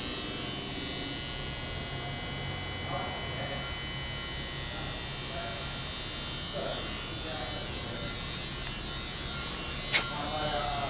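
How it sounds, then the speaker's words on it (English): Steady electric buzz and hum from the main hydraulic system of an Elb two-wheel, over-under, six-axis CNC creep feed grinder running in a shop, a constant drone throughout with a faint click near the end. "The main hydraulic system."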